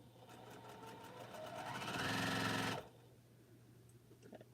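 A sewing machine stitches the other side of a quilting piece in one steady run that speeds up, holds for a moment, then cuts off abruptly, leaving a quiet room hum.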